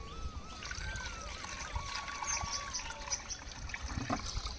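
A gentle trickle of water poured onto a keerai plant in a garden, a steady soft dribble running continuously at close range with faint background noise.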